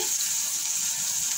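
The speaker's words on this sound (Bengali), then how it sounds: "এটা একটু ভাজা ভাজা হোক" Green chillies frying in a pan with salt and turmeric give a steady, even sizzle that holds at the same level throughout, close by, with no voices over it.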